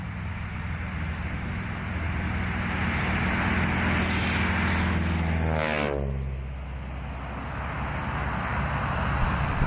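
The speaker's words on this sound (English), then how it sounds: "The famous sound of the T6 going by is made by the blade tips" A 1940 SNJ-2 (T-6) warbird flying past at a short takeoff and landing competition in Virginia Beach: the engine roar builds, then a harsh, rasping propeller-tip scream sweeps down in pitch as it passes, and the sound settles into a lower drone.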